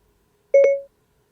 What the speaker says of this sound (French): si j'appuie en fait sur l'écouteur gauche, jusqu'à ce que j'entende un bip, ça me permet d'avoir en fait l'assistant vocal